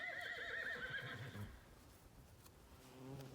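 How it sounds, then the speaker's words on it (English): Ponies and donkeys in a paddock after a wind storm wrecked their shelter, one giving a loud wavering whinny up close for over a second, then a duller grunt later under steady wind noise. "Say hi to the ponies and the donkeys."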